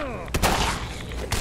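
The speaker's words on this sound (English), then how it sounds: "Well, I shot Nick in the back." Gunfire in Fallout 4's Far Harbor expansion: two sharp shots, one near the start and one near the end, each followed by a noisy burst, with game sound and faint speech around them.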